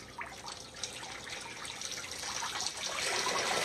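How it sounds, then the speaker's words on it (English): Water poured at a steady, even rate over a gold sluice grizzly in a basement test setup, a continuous close splashing trickle that swells slightly louder toward the end, with no talking. "I try to get my water flow the same every time. I don't just dump it out real fast."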